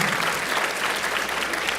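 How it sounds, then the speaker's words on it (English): Brief, lively applause from the audience at a Holocaust awareness event at a school, a dense burst of clapping that carries steadily to the end. "Give Zoltan a round of applause."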